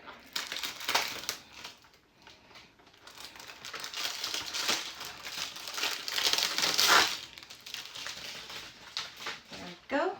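A package being opened, with steady crinkling and crumpling of packaging material, rustling close and fairly loud throughout with some soft patter.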